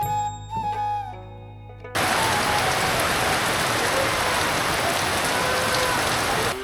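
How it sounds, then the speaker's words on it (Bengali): Heavy monsoon rain starts abruptly after a brief tonal intro and keeps pouring in a dense, loud, steady hiss of drops hitting surfaces, with no voices. "বৃষ্টি হচ্ছে এই দেখুন প্রচুর বৃষ্টি নামছে"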